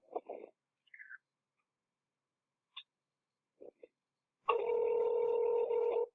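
Brief, faint electronic bleeps and short voice-like bursts separated by silence, then a loud, steady multi-tone telephone signal that holds close for about a second and a half.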